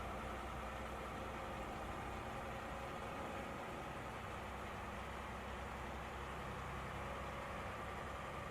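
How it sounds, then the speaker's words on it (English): Diesel engine of a Peterbilt truck with a Packer MX engine in American Truck Simulator, a steady low rumbling drone heard through open windows, constant and unbroken throughout. "Get a little bit more of that Packer engine noise."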